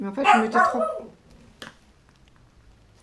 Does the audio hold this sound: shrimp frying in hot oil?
no